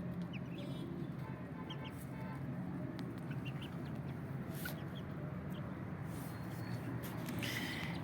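Aseel chickens, growing young birds about two and a half months old, cluck faintly now and then over a steady low rumble of background noise, with a few sharper bird calls scattered across the yard.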